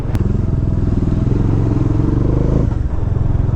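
Bajaj Dominar 400 motorcycle being ridden, its engine thumping in a steady, loud, close rhythm with a brief dip in revs before pulling again.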